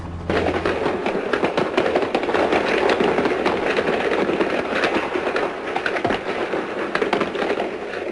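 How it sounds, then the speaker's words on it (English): A dense, continuous crackle of rapid gunfire during a prison hostage rescue, many shots overlapping in a sustained barrage with no pauses. "The barrage of gunfire lasted only 6 minutes."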